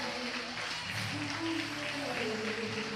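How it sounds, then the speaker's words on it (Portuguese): A church congregation claps for Jesus at a night service, a faint, steady wash of applause with voices and sustained tones underneath. "Quem pode aplaudir a Jesus nessa noite?"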